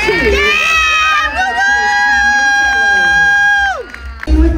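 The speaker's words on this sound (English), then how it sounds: "One more round of applause" A crowd at a regional dance competition cheers loudly, with high sustained whoops and shrieks from young voices over clapping, holding strong for several seconds before breaking off abruptly.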